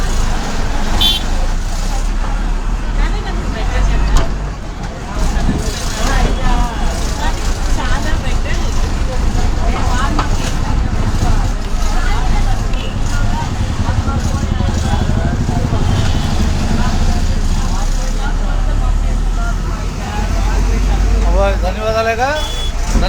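The 0310 Moparu–Pannuru APSRTC bus pulls into a busy bus stand, engine rumbling close by amid traffic, horn toots and beeping, while someone talks over the steady vehicle noise.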